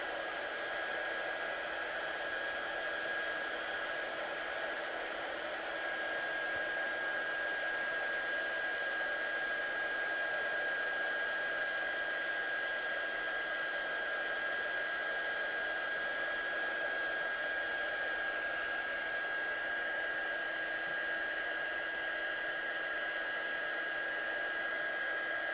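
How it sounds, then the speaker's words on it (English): A heat gun heat-setting clear embossing powder on a watercolour card blows a constant steady whoosh with a faint high whine, unchanging for the whole stretch and with no talk. "my heat gun is already hot from last time, so we're just going to heat set this one"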